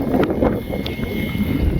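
Crosswind gusting across the runway at an RC jet flying field, a loud rushing buffet of wind on the microphone, steady and close throughout the short moment.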